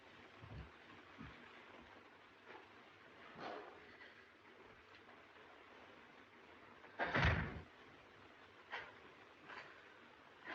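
An old wooden door bangs hard once with a loud thud near the middle, set among fainter knocks and rattles in an otherwise quiet room.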